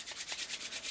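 Hands rub MUA Pro Base Primer between the palms, making soft, quiet swishing strokes in an even rhythm of about eight quick passes.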